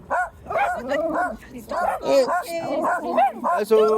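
A pet dog named Basil barks and whimpers in short yappy bursts indoors, mixed with close, overlapping human talk throughout.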